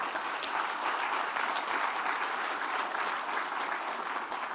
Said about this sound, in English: And that deserves a big round of applause.